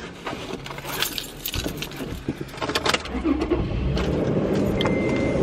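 Car keys jangle close by, then a car engine turns over and settles into a steady idle that continues to the end, with no talking.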